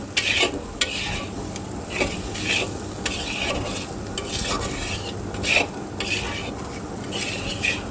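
Potatoes with turmeric and coriander powder are stirred and sautéed over low heat, a soft frying sizzle broken by repeated scraping strokes of a utensil against the pan at a loose, regular rhythm.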